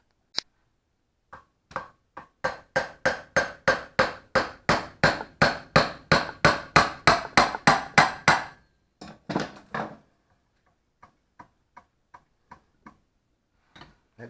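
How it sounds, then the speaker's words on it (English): A hammer beats on a seized Holley Economaster carburetor to break it apart, a close run of about twenty sharp, evenly spaced metallic knocks that speed up and grow louder, then scattered, lighter taps after a pause. "Let me get a hammer."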